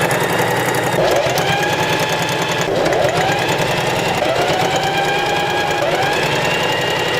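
A sewing machine stitches bias binding onto a fabric pet-accessory bow organizer for a hanger, its motor running loud and close without pause, pitch dipping and rising in a few short surges as the stitching speeds up and slows.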